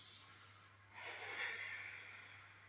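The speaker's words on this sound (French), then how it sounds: "on inspire par le nez et on expire par la bouche en faisant passer l'air derrière la gorge mais en gardant la bouche bien fermée" Ujjayi yoga breathing: a slow breath drawn in through the nose, then a soft, airy exhale pushed past the back of the throat with the mouth closed. It is quiet and close, with no talking.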